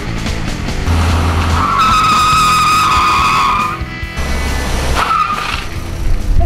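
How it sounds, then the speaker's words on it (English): A car engine revs hard as the tires squeal and skid, with loud, sustained screeching that fades, then a second shorter squeal, all close and forceful with no talking. "Rev up your engine!"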